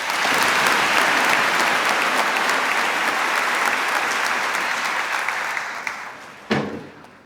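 Sustained applause from a large audience at a high school commencement ceremony, loud and even for several seconds before thinning out, ending with a sharp knock.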